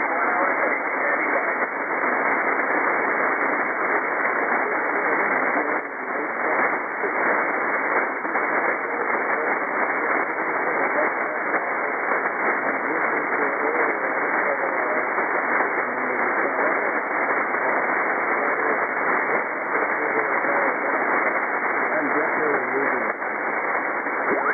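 A weak amateur radio transmission comes through band-limited static, a steady hiss with a faint, barely intelligible voice buried in the noise throughout.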